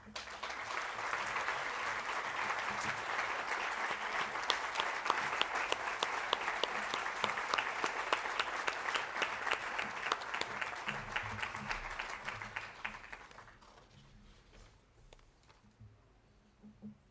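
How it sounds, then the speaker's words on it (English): Sustained audience applause at a high school awards ceremony, many hands clapping steadily indoors for about twelve seconds before fading out to near quiet. "Let's give him another round of applause."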